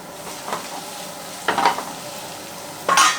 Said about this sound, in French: Je vais y mettre mon beurre. Je vais faire revenir mes échalotes.